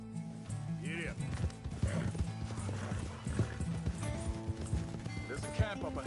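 Horse galloping in Red Dead Redemption 2, rapid rhythmic hoofbeats close by with a whinny, under spoken dialogue.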